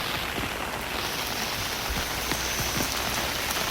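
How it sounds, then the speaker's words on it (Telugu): Monsoon rain pours steadily onto a hard surface during a road trip to Bhimashankar, Maharashtra, with a dense, even patter, occasional heavier drops close by, and no voices. "కొంచెం వర్షం ఇరిటేటింగ్ ఉంది కానీ ఇది ఒక ఎక్స్పీరియన్స్"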